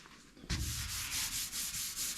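A hand rubs back and forth over a freshly sanded body panel on a 1969 Dodge Charger R/T, smoothed with U-Pol Gold filler, making a close, dry swishing sound in steady rhythmic strokes.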